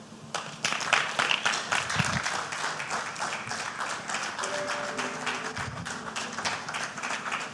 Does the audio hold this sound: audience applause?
yes